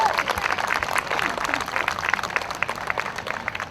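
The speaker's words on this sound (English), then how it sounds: "You can give her a big round of applause if you want to." A crowd at a county fair's pig racing show applauds an 11-year-old announcer, a lively, moderately loud round of clapping that stays busy for several seconds with faint voices mixed in.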